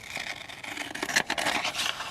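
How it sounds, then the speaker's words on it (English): Scissors cutting through a cardboard Christmas garment box, a short run of close scraping, rasping snips over about two seconds, no voices. "I'm going to use my scissors."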